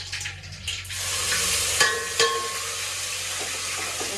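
Onion dropped into hot oil already holding spices: a brief clatter at the start, then a steady close sizzle of frying, with a couple of small knocks partway through.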